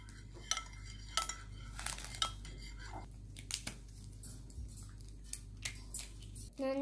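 A child stirs a homemade sanitizer mixture in a container, and a utensil scrapes and clinks against the sides in irregular, fairly faint strokes over a low background hum.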